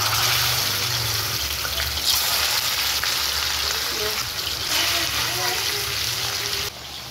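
Food frying in a pan, a loud continuous sizzle and crackle with occasional stirring, while a voice speaks faintly underneath; it cuts to quieter just before the end.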